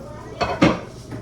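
A lid is lifted off a pan on the stove, making two quick metallic clinks close by, followed by a faint softer clatter.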